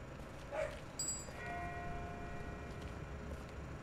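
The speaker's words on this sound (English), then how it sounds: "That's not the same bell as before. It's a different bell. This one's further off." A far-off bell rings in The Walking Dead video game, faint ringing tones sustained over a low ambient wash, with no talk.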